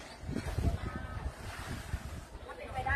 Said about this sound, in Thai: ลมแบบพัดวิววิววิวนะคะ